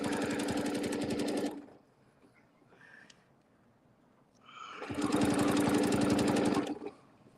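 Sewing machine stitching quilting fabric, two bursts of rapid rhythmic needle clatter about two seconds each, separated by a quiet pause with faint handling sounds, close and loud.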